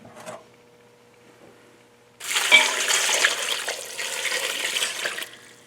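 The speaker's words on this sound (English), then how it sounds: "And then you add your water." After a quiet moment, water gushes steadily into a large stock pot of kitchen leavings, a loud splashing rush lasting several seconds before easing off.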